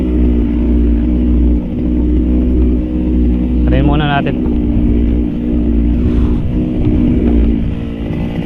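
A faulty engine runs roughly in a loud, close, steady drone with a brief revving surge, while someone talks over it.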